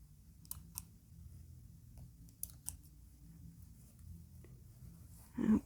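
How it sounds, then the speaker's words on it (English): Scissors snip sewing thread in a few sharp, quiet clicks spaced across the moment, close and soft against a low background rumble. "Now I'm going to cut my threads. Clip my thread down here."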